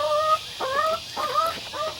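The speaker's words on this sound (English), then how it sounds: "Chicken's gonna talk to me." Chickens kept on fermented feed cluck and murmur nearby in a coop, a few short tonal calls repeating every half second or so; no talking.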